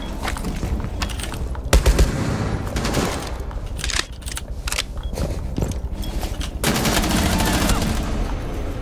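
Rainbow Six Siege gunfire in a one-on-one match, loud bursts of rapid automatic shots with sharp single cracks and impacts, dense and close throughout, with no voices.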